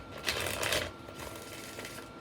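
Tarot cards being shuffled by hand, a brisk riffling flutter that is loudest at the start and then continues more softly for a couple of seconds.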